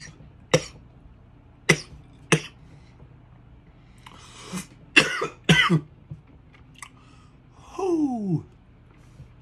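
Several sharp coughs, spaced out at first and then bunched together, with a wheezy gasping breath at the end, close and fairly loud.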